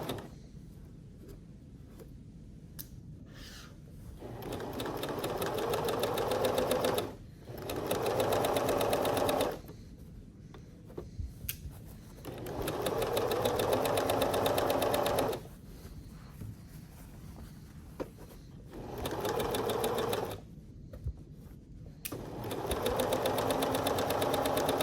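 A sewing machine stitches the side seams of a skirt in several bursts of rapid, even mechanical whirring and clatter, each lasting a few seconds, separated by short quiet pauses, heard up close without talking.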